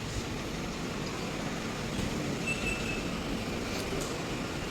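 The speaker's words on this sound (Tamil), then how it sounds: "ட்ரெயின் சிக்னல் மாறிடுச்சு, எடுக்க போகிறாங்க, ஏறிடுவோம்." An electric local EMU train rumbles steadily at Chennai Egmore station, with a continuous loud drone of wheels and car noise and a faint high squeal partway through.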